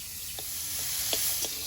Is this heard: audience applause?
no